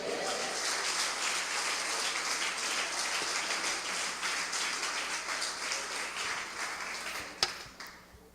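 A church congregation applauding together, a thick, steady patter of clapping that fills the room and then tapers off near the end.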